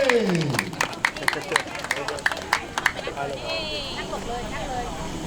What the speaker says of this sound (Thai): ขอเสียงปรบมือดังๆให้กับพรื่องดาวคาเม่